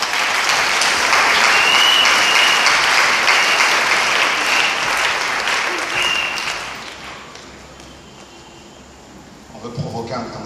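A church congregation at a worship service in Côte d'Ivoire applauds loudly for several seconds, a dense sustained clatter of many hands that fades away, with voices rising faintly near the end.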